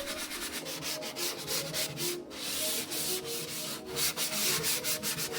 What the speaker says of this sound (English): just sand it flush to the wood